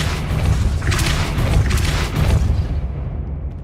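A Depulso force spell blasts in Hogwarts Legacy as a loud, sustained booming rumble with several heavy thumping surges. It fades toward the end, and no one talks.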